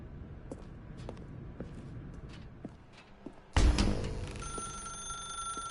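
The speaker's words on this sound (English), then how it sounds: "Now pick up the phone." A telephone in The Stanley Parable game bursts into loud, sustained ringing partway through, after a stretch of quiet ambience with faint footstep-like taps.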